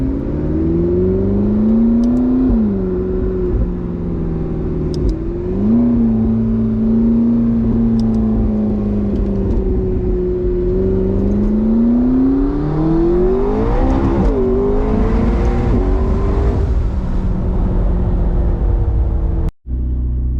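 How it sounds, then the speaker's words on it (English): A McLaren 650S engine drones and revs up and down repeatedly, its pitch rising and falling in smooth swells, loud and close for a long stretch. "we can rev the car out a little bit."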